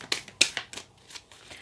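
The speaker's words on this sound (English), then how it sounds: "This is such a hard deck to shuffle." Quick riffling bursts of cards being shuffled, several crisp flurries in a row, close and fairly quiet with no talking.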